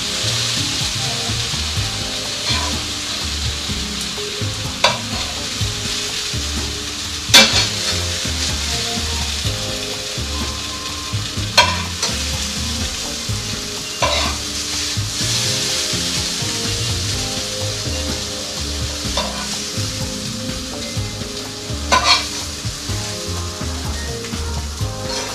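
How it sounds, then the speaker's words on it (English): Chopped onion being stirred into a simmering pot of Swiss chard and squash stew, soft continuous sizzle with scraping strokes of a utensil recurring every few seconds, close and fairly quiet. "We're gonna mix in the onion."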